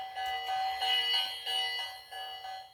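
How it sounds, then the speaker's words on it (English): A small bell on a battery-powered toy train station, rung in a few quick bursts of bright metallic dings with short pauses between, close and clear, with no talking. "There's the bell."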